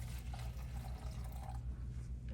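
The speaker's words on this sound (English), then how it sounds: "So you would then take your bedpan and pour the contents in here." Urine poured from a bedpan into a measuring container during a nursing skills test, a steady liquid splash and trickle running continuously at moderate level throughout.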